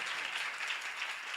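Congregation applause in a church service, a steady mid-distance wash of many hands clapping continuously without a break.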